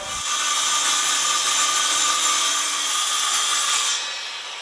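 An old corded power saw, nearly thirty years old, cuts through wood during a pole barn interior wall rehab, giving a loud, continuous buzzing whine for about four seconds before it winds down.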